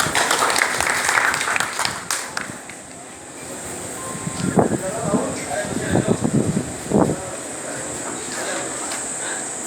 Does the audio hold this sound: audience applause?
yes